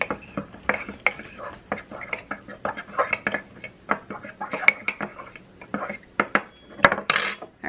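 A metal spoon clinks and scrapes against a bowl while salt is stirred into a lemon seasoning mix, quick irregular taps up close with brief louder knocks.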